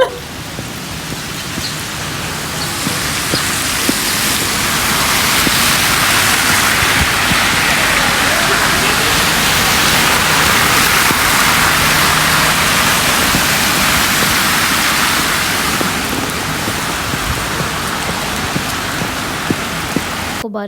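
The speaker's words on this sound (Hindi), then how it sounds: "आज इतनी ज़्यादा बारिश हुई है" Heavy rain pours steadily in a dense, continuous hiss that swells to its loudest through the middle and eases slightly near the end, close and unbroken with no voices over it.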